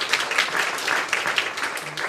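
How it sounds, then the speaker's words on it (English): Audience members at a London seminar and exhibition clap in a lively, continuous round, with individual claps standing out from a moderately loud, roomy wash of applause. "give us a round of applause to everybody here today"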